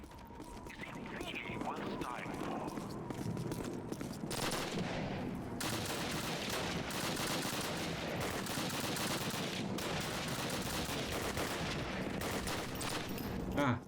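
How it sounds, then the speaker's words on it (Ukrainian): Gunfire rattles through the sewers of Stalingrad in a Call of Duty match, bursts of automatic fire and single shots close by and far off, with a player talking over the noise. "я стріляю"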